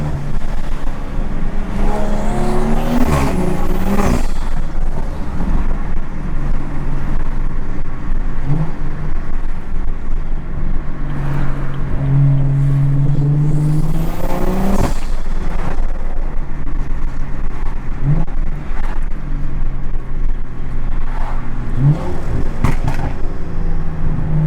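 A BMW 340i engine revs repeatedly while driving, with several loud rising pulls and drops in pitch, brief throttle blips between them and a constant road rumble underneath.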